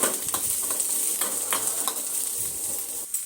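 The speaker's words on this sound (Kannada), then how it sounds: "ಶುಂಠಿ ಬೆಳ್ಳುಳ್ಳಿ ಮತ್ತು 1 ದೊಡ್ಡ ಸೈಜ್ದು ಈರುಳ್ಳಿ, ಇದನ್ನು ಫ್ರೈ ಮಾಡ್ಕೊಳ್ಳೋಣ." Ginger, garlic and a large onion fry in a spoonful of oil in a pan, a close, constant sizzle punctuated by light stirring scrapes, with no voices.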